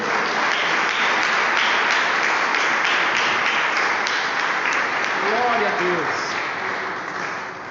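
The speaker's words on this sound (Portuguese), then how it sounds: "Irmãos, vamos aplaudir a esse Deus glorioso." Church congregation applauding during a worship service, steady massed clapping throughout with a voice speaking over it near the end.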